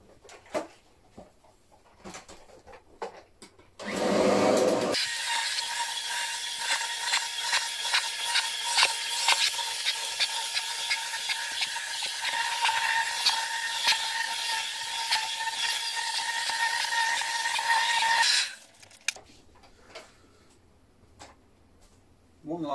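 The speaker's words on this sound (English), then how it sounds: "Running the vacuum over the backside like that sort of acts like a backbeater" Vacuum cleaner run over the backside of a urine-soaked area rug, a steady loud whirring roar lasting about fourteen seconds with rubbing and tapping over it, starting and stopping abruptly between quieter handling noises.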